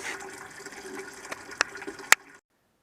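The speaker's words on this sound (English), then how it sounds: "First step is turning this petcock here and draining the water out" Old water drains from a GM 4106 radiator through an opened petcock, a faint, steady trickle and splash with a few sharper drips or clinks near the end before it cuts off into silence.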